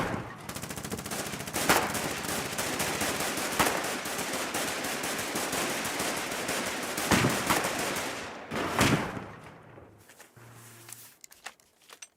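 Machine gun fire in the war game Foxhole: long, loud, rapid bursts ripping almost continuously, with sharper individual shots standing out, before the firing breaks off into a few scattered shots and quieter rumble.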